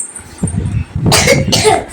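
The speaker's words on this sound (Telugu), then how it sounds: "నేను దగ్గుతున్నా" Two short, harsh coughs, likely from a child, burst out close up in the second half after a quieter stretch of low background voice and room noise.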